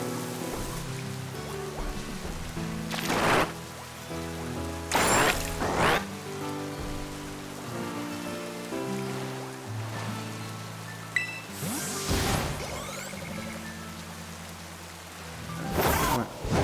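Rain falls in the Pokémon Scarlet video game as a steady, soft hiss beneath the looping game music, with a few brief louder swells along the way.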